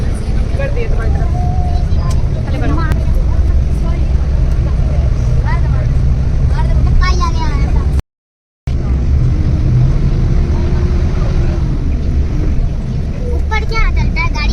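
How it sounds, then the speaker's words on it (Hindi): A bus travelling from Delhi toward Shimla produces a steady engine rumble and road noise throughout, with a brief dropout partway through, while people talk over it. "खा पी करके हम बस में बैठ जाते हैं और यहाँ हमारी फिर से जर्नी स्टार्ट हो जाती है"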